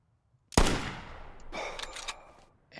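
In the hunting video game theHunter Classic, Scarecrow's gun fires a single sharp, fairly quiet shot that rings out and decays, followed about a second later by a softer rumbling echo.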